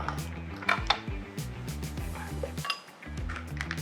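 A glass container is handled in a central kitchen serving cafes and restaurants, giving a few light clinks and knocks close by over a steady low hum.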